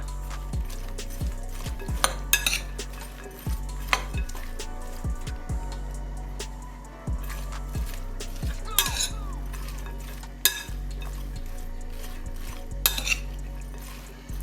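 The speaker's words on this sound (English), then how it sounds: "Drop these onions in. Mix it up a little bit." Onions frying in a pan, stirred with a utensil that repeatedly knocks and clinks against the metal over a continuous low sizzle.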